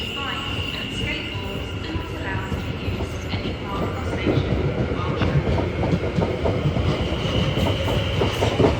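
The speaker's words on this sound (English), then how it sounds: "As the London Bridge service departs." A London Bridge service train pulls away at Clapham Junction, its wheels clacking and rumbling steadily and growing louder at close range, with a voice talking over the noise.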